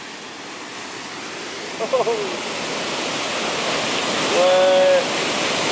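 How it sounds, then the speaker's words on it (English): Constant broadband rushing of falling water fills the scene, steady and fairly close, with brief voices and a short whistle-like tone over it. "we just found a waterfall"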